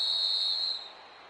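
A referee's whistle sounds one long, loud, steady blast at a high school football game, then cuts off, leaving crowd hiss behind.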